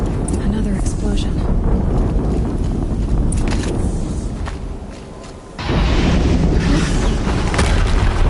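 Horizon Zero Dawn explosion: a heavy, sustained rumbling roar fills the scene, dips briefly, then surges back with a deep boom and continuing loud blast noise.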